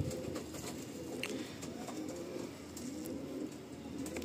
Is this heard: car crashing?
no